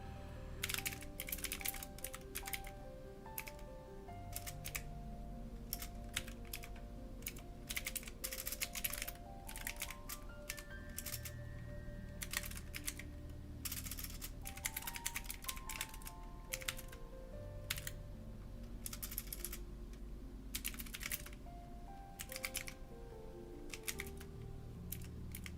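Continuous typing of prompts on a computer keyboard, rapid clustered key clicks at close range, faint, under a sustained synth music bed.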